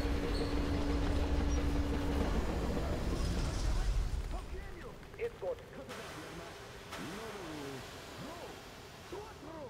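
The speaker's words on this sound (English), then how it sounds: "This is a big ass train." A heavy train in the video game Metro Exodus rumbles loudly past for a few seconds, then fades, leaving voices talking over quieter background noise.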